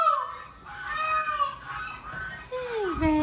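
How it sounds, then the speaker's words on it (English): A friendly pet bird calls with honking, squawking cries, several wavering calls in a row at close range, with a person's voice faintly around it. "This bird is so friendly."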